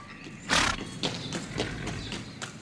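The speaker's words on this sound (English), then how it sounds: "riding his horse along a track near the bank of the Tangahoe River in Taranaki" A horse's hooves clip-clop at a steady walking pace along a track beside the Tangahoe River in Taranaki, each footfall distinct over a soft outdoor background with no talking.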